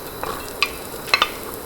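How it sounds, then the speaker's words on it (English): Onions stirred in hot oil in a pan, with a soft steady sizzle beneath a few sharp scraping clicks of a utensil, close and fairly quiet. "Go in with some oil. And then we're gonna go in with our onions."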